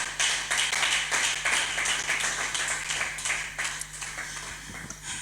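A church congregation claps together in a dense, lively burst of applause, loud at first and gradually easing off over a few seconds.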